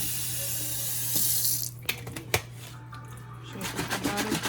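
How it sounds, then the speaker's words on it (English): Tap water runs into a pan while cooking homemade lasagna, a hissing gush followed by clattering knocks and splashes as the pan is handled. "Put water in here."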